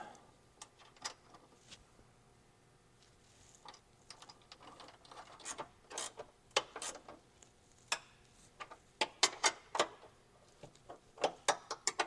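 Ratchet clicks in quick bursts as bolts are tightened on a fender liner of a 5th-gen Toyota 4Runner, close and crisp, with scattered sharp clicks at first and denser clusters later, no talk.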